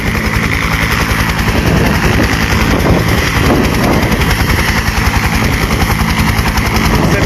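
A police helicopter runs close by with a loud, continuous rotor chop and engine roar, the rapid pulsing beat holding steady throughout without any pause.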